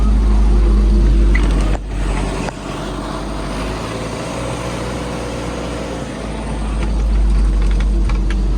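MTZ tractor engine idling up close, a heavy steady diesel drone with a faint whistle on top after its elbow pipe was replaced, dipping briefly and then swelling again.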